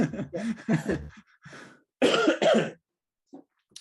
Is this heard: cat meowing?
no